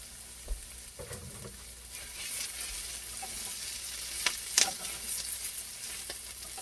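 Garlic sizzles in a pan over a little above medium heat for ratatouille, a soft, steady frying hiss with a few light stirring clicks and knocks.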